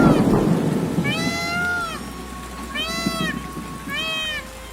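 Heavy rain with thunder, a rumbling surge of rain at the start settling into a steady downpour, while a cat meows three times, close and clear, over the rain.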